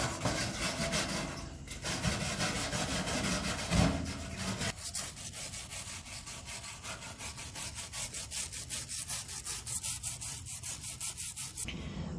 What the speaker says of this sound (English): So I'm gonna wire brush it until the rust spots are gone and I can mostly see the shiny metal